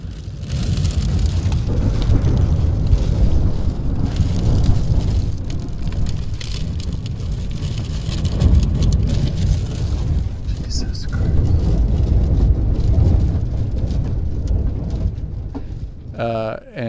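A violent nighttime storm in South Dakota heard from inside a car: heavy rain drumming and roaring wind, loud and continuous with surging gusts and intermittent sharp spatters, fading slightly near the end.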